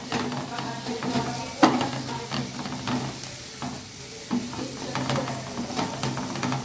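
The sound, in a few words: sautéing Agri masala in pan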